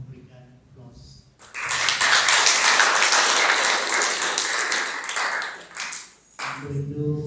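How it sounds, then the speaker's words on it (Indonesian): Wedding guests at a Christian Batak wedding blessing burst into loud, sustained applause lasting about five seconds, with a voice speaking briefly before and after it. "Silakan memberikan aplaus."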